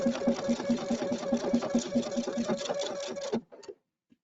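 A sewing machine stitches fabric with a fast, even mechanical rattle for about three seconds, close and steady, then stops abruptly, leaving a few faint clicks as the fabric is turned.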